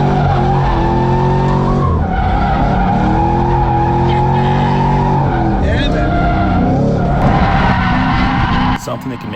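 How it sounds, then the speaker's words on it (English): Drift car sliding through a tight turn on a cone-lined track, loud sustained tire squeal and roaring engine swelling and dipping close by, with a brief break in the middle. "Here you see me trying to hold and stay in drift all the way to this front straight, which is really tough."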